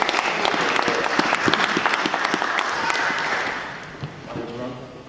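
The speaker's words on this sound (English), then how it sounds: "So, can we give a round of applause for Angelus?" A crowd at a debate applauds with dense, steady clapping that gradually thins and fades out toward the end.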